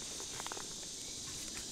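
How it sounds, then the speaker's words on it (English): Cicadas buzz on a summer day, a steady high-pitched drone filling the background, faint and continuous throughout. "Listen to those bugs. Or should I say the cicadas. They sound so pretty."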